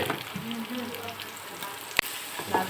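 Turmeric is stirred into rohu fish frying in a pan, with a constant oily sizzle, soft scraping, and one sharp utensil clink partway through.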